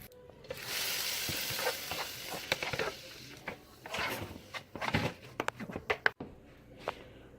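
Tomatoes, onion and chile fry in a pan, a close, moderate sizzle broken by irregular scraping and stirring clatter, with no talk.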